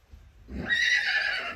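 A young mustang horse gives a single clear, fairly close neigh that rises into a sustained whinny lasting over a second, heard alone without talk.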